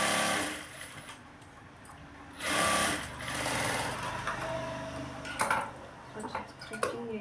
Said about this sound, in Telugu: స్టిచ్చింగ్ చేస్తున్నాను.